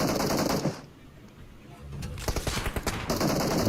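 Gunfire in PUBG Mobile during a grand-finals esports match: loud rapid automatic bursts at the start and end, with a quicker crackle of shots in between, and no clear talking.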